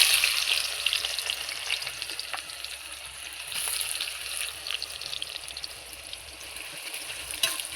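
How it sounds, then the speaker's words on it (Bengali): Sliced onions fry in hot oil for beresta, producing a steady bubbling sizzle of moderate loudness with light stirring scrapes, and no one speaks. "বেরেস্তা ভাজা হচ্ছে, লাল করে দেবো।"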